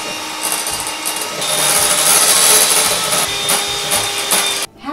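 Electric mixer beaters whirring steadily in a bowl, whipping butter as sweetened condensed milk is added for a Russian buttercream frosting, loud and continuous before cutting off near the end.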